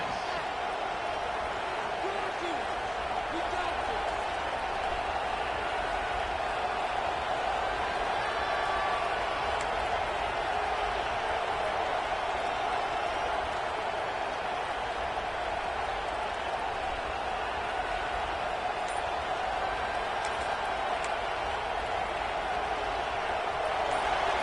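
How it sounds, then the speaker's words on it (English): Football stadium crowd at a Texas college game during a timeout, a steady loud roar of many voices sustained throughout with no clear peaks, filling the space evenly. "It's early, but this crowd is fired up. Listen to this noise here."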